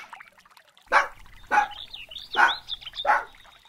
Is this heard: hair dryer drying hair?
no